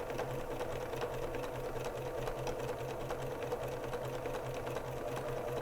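A sewing machine runs steadily, stitching around the edges of an appliqué leaf on a small quilted table topper, with a continuous close motor hum and rapid needle clatter and no voices.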